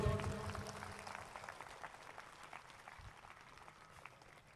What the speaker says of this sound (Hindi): आज जोर से ताली बजाएंगे